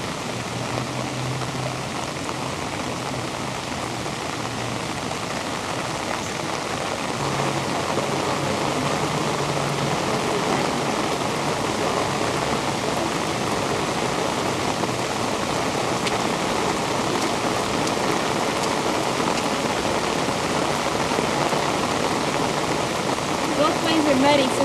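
Steady rain falls outdoors at the Capitol building, a constant broadband hiss that thickens slightly partway through, with faint voices underneath.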